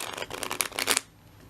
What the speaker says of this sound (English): Okay, so I'll give it a shuffle.